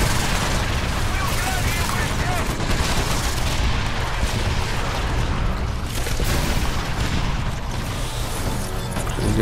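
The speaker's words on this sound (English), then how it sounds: "I can kill them because my gun is so fast." Rapid automatic gunfire aimed at swarming ants in Earth Defense Force: Insect Armageddon, a dense, loud, continuous barrage mixed with crashes and explosions that never lets up.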